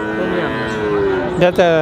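A heifer at a cattle market moos in one long, loud call that rises into a sharper, broken bellow near the end, heard close up over a murmur of market background.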